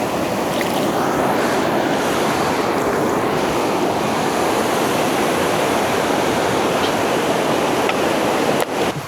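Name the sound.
river water flowing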